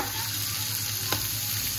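White sauce pasta being stirred in a pan, a soft steady scraping and faint sizzle with one brief sharper clink near the middle, continuous and close with no talk.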